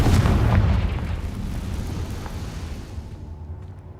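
A Confringo fire-blast spell from Hogwarts Legacy explodes with a heavy, close boom, then rumbles and fades out over a few seconds.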